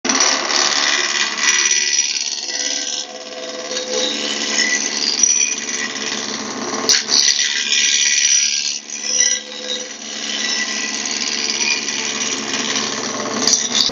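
A wood blank spinning on a lathe is turned down to a cylinder, giving a steady, loud, broadband whirring hiss with rough cutting texture that swells and dips slightly as the tool works, with no voices.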